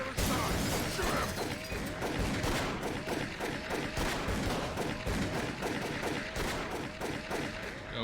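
Rapid gunshots during a chase in Call of Cthulhu: Dark Corners of the Earth, a dense run of sharp cracks firing in quick succession over constant background game noise.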